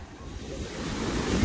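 Ocean waves on the open sea make a steady, broad surf wash mixed with some wind noise on the microphone, slowly growing louder, with no voices.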